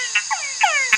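A male frog gives a mating call of frequency sweeps that ends in a short chuck, loud and close with no other sound.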